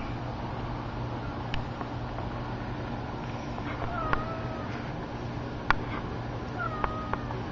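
A mother cat meows several times, short clear calls spaced a few seconds apart over a steady indoor background hum.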